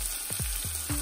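Green chillies fry in a pan with onions for a drumstick curry, giving a close, steady sizzle broken by a few quick stirring scrapes.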